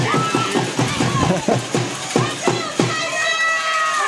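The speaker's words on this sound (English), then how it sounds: "It's probably the crowd noise." Crowd noise at a high school baseball game between the Belton Tigers and Corsicana Tigers, with scattered nearby shouts and chatter in rhythmic bursts and people talking throughout.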